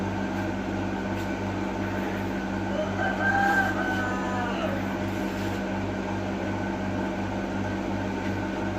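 Homemade power wheels go kart engine idling steadily nearby, a rhythmic low pulsing hum with mechanical drone that stays even throughout, with a brief faint whistle-like tone in the middle.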